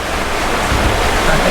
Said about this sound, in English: the waves are behind us.